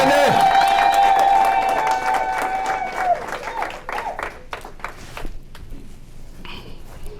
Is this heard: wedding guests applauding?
yes